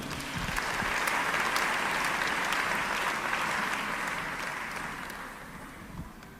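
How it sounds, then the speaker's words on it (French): A church congregation bursts into sustained applause, a dense, steady wash of clapping from many hands that holds for several seconds, then gradually thins and fades toward the end. "Acclame le Seigneur."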